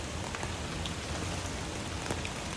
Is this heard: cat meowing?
no